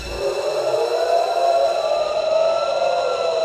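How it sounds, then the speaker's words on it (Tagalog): A loud, steady air raid siren wails continuously in Israel during a missile attack, its sustained tone slowly shifting in pitch throughout. "Agad tumunog ang mga sirena at alarm sa Israel."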